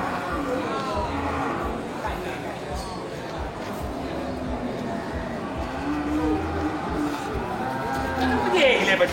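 Simmental cattle lowing at a farm pen where a breeding cow with a calf is kept, several drawn-out moos rising over a steady background of nearby talk and barn noise.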